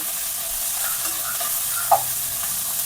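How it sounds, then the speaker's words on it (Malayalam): A Kerala-style beef fry being stirred in a hot pan: a steady close sizzle with scraping stir sounds and one brief sharper clink, and no talking. "നല്ല ഇളക്കി കൊടുക്കാം. നല്ല മിക്സ് ചെയ്ത്"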